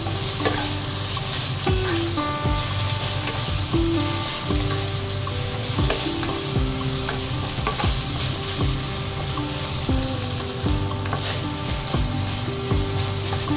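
Chicken and broccoli sizzle steadily in a hot pan while being stirred, with frequent clinks and scrapes of the utensil against the pan, loud and close, with no speech.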